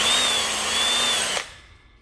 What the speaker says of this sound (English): Having a drill with metal drill bits available will be helpful